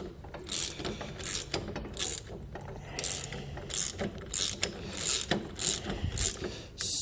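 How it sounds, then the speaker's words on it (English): A ratchet with a 19mm socket tightens a lock nut on a tow bar for a 2020 Jeep Gladiator, steady repeated clicking strokes in a rhythmic back-and-forth pattern, close and clear. "We'll be using a 19mm socket and wrench in order to snug up our hardware here."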